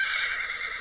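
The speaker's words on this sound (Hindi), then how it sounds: "रात के वक्त से घोड़े की आवाज़ें सुनाई दी।" A horse neighs in one sustained, shrill whinny heard up close and loud. No voices are heard.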